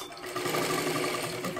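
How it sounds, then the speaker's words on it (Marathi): A sewing machine runs steadily, stitching a small girl's lehenga dress, with a continuous close whirring hum and no pauses across the short stretch. "हे पहा अशा पद्धतीने शिलाई घ्यायची आहे."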